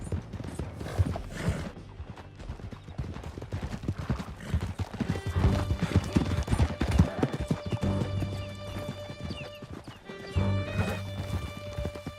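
Galloping horse in Red Dead Redemption 2, its rapid, steady hoofbeats pounding close and loud throughout, layered with a musical score and other game sounds.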